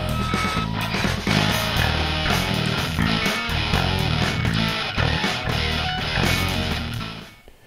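Loud, dense, noisy rock and roll music, drums and distorted guitars, run through the Airwindows Srsly stereo plugin in its center mode, playing steadily and close without voices before fading at the end.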